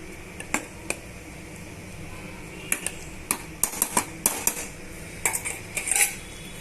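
Chicken curry being stirred in a pressure cooker pot, a series of sharp metallic clinks and scrapes from a spoon against the pot, scattered and irregular, growing busier toward the end.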